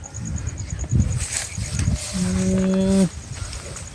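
A cow gives a single drawn-out moo near the end, steady and fairly close, over faint background noise and insect-like buzzing.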